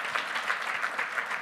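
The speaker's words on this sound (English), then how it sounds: "A big round of applause for the section leaders." A class applauding its section leaders: a soft, fairly distant round of many hands clapping in a steady patter with small rhythmic swells, and no talk over it.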